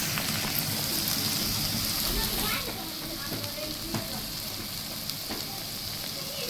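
Sliced bitter gourd (karela) fries in a pan with a steady, rain-like sizzle that stays loud, easing slightly partway through, with a voice speaking over it.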